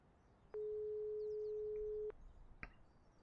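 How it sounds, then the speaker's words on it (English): A smartphone call rings out in the adventure video game Broken Sword 5, a single steady electronic ring tone lasting about a second and a half, clear and alone, followed by a brief click. "My smartphone. Possibly the journalist's most important tool. Okay, let's call George"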